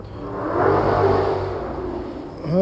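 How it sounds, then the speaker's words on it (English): A car speeding along a freeway in Southern California, its rushing whoosh rising as it nears and then fading, heard from a short distance with another engine swelling at the end. "there goes a car flying down the freeway."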